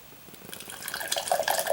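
Pale Gaffel Kölsch beer pours from a bottle into a glass, a soft gurgling, trickling flow that builds steadily louder over the short stretch, heard up close with no talk.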